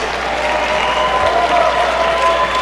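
A loud crowd applauds and cheers steadily for two fighters after a three-round fight, a dense wash of clapping with no pauses.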